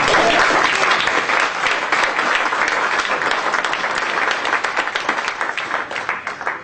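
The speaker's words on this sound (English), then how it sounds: "Round of applause." An audience at a business forum panel on online TV and video gives the panelists a strong round of applause, dense and close clapping that holds steady before thinning and tapering toward the end.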